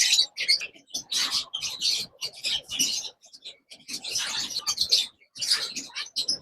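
Lovebirds, small parrots, chirp loudly and nearby in repeated shrill, chattering bursts, broken by short pauses, with no talking.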